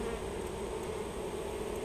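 Honey bees hum steadily at an open hive during an inspection of a recently captured swarm, a close, continuous buzzing drone with no talk over it.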